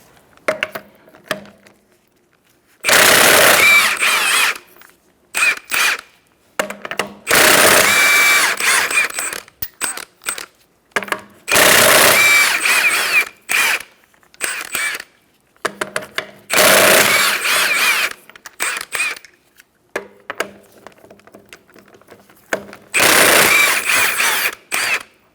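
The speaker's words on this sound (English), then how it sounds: "Using a 21mm socket, we're going to take off our wheel." Power tool with a 21mm socket spinning off lug nuts on a 2014-2019 Kia Soul rear wheel, loud rattling impact bursts of a few seconds each, repeated several times with short quiet gaps between.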